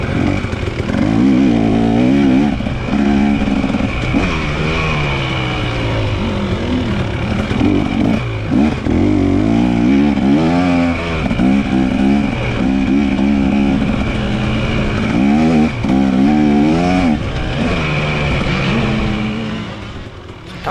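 Dirt bikes, including an 85cc machine, race through mud and ruts at the 2023 Riverglade hare scramble: loud, continuous two-stroke engine whine that rises and falls as riders rev and pass nearby.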